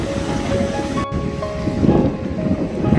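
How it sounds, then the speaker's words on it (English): Ocean waves crash onto the rocky shore near the Cliff House in San Francisco, a steady, close roar of surf mixed with gusting wind noise across the whole stretch. "the waves are crashing"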